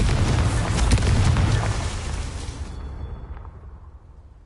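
A Confringo blasting spell goes off in a Hogwarts video game: one loud, deep explosion that booms and rumbles, then fades into a long, low tail.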